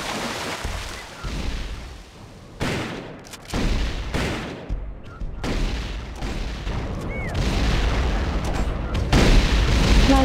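Plasma rifle fire in a retro-styled Terminator 2 shooter game, heavy booming shots and rapid volleys amid explosions, dense and continuous with brief gaps.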